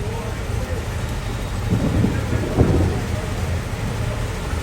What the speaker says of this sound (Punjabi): ਮੀਂਹ ਹੁੰਦਾ ਪਿਆ